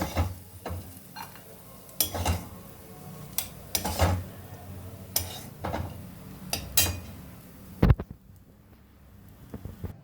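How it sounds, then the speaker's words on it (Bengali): Fried cashews, raisins and coconut are scraped out of a kadai into a bowl, making intermittent close metallic scrapes and clinks of a spoon against the pan, with a faint sizzle underneath and a final sharp knock. "এবার এগুলো একটা পাত্রে তুলে নেব।"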